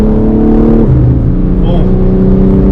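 A BMW M4 Competition xDrive (G82) engine drones loud and close at full throttle, its pitch dropping sharply once as it upshifts, then climbing again with a brief crackle.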